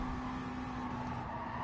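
Race car engine in a racing video game revving steadily at high pitch for the whole moment, a constant loud drone with no talk over it.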